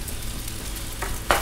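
Fried rice sizzles in a hot pan after soy sauce and sesame oil are added, a steady close crackle with a sharp hissing burst near the end.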